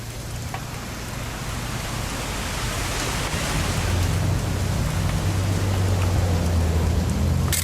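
Steady rain falls in the video game What Remains of Edith Finch, a dense continuous hiss with a low rumble beneath that swells slightly over the seconds, with no voices.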